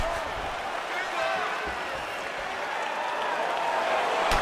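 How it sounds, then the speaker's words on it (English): A packed arena crowd at a UFC fight roars and claps steadily ahead of the third round, a broad continuous wash of cheering that stays even throughout, with commentary over it. "Crowd fired up, so are we."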